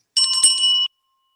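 A single bright ring of a small hand bell used as a sound check at a council candidates forum, one clear metallic tone lasting under a second, close and loud, then silence.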